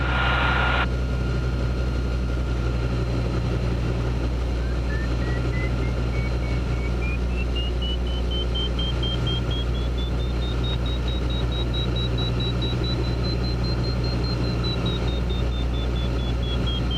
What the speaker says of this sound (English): Letting the engine cool.